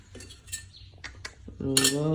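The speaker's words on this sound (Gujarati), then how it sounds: "ફૂલ કરીને આપણે નાખશું આ તરવાની કડાઈ" A metal kadai frying pan is set on a gas stove, giving a few light metallic clinks and taps, followed by a louder ringing clatter near the end.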